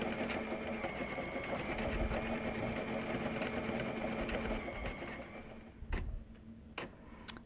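A sewing machine stitches a trapunto quilt layered with batting, running steadily close by, then stopping toward the end, leaving a few sharp clicks and taps.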